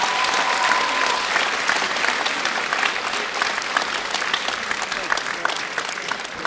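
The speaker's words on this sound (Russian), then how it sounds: "Руководитель коллектива Эдуард Волков, под ваши бурные аплодисменты." Loud, thick audience applause for a big band at a jazz concert, a dense unbroken roar of clapping that stays full and even throughout, with faint voices within it.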